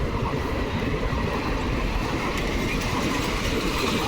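The Agartala to Guwahati Express rumbles past close by at Kanaibazar railway station crossing in India, a loud continuous roar of wheels on rails with a steady rattling clatter throughout.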